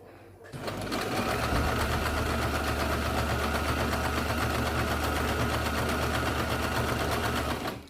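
Sewing machine stitching a newborn baby's pant, a loud, fast, steady mechanical whirring that runs unbroken for several seconds before stopping, with a person speaking under it.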